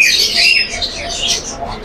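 Pineapple conure parrots at a bird shop give shrill, harsh squawks and chirps throughout, fairly loud and close, with no talking over them.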